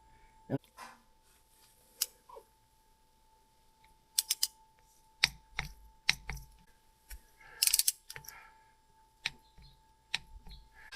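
Torque wrench tightening drain bolts on an Indian Chief Darkhorse motorcycle during an oil change, sounding as sharp, separate ratcheting clicks and clacks in small clusters, close by, with quiet gaps between them.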